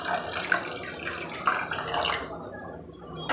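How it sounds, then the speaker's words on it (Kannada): Boiled, cooled milk poured into a pot of hesarubele sabbakki payasa, a steady close liquid pouring and splashing that tapers off near the end with a faint clink. "ಈಗ ಲಾಸ್ಟಿಗೆ ನಾನು ಕಾಯಿಸಿ ಆರಿಸಿರುವಂಥ ಹಾಲು ರೂಮ್ ಟೆಂಪ್ರೇಚರ್ ಇದೆ. ಈಗ ಇದನ್ನು ಆ್ಯಡ್ ಮಾಡ್ಕೊಳ್ತಾ ಇದ್ದೀನಿ."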